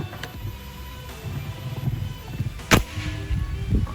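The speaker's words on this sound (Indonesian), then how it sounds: "Lanjut tembakan yang kelima ya." A single sharp, loud PCP air rifle shot cracks out near the middle, followed by a brief thud as it hits the target, over faint outdoor background rumble.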